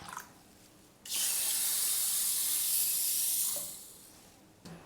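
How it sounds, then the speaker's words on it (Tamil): Water gushes from a tap into a bowl of washed rice and lentils set to soak for dosa batter, a steady bright splashing of about three seconds that then tapers off, close with no voices. "தண்ணி ஊற்றி நல்லா ஊற வச்சுக்கலாம்."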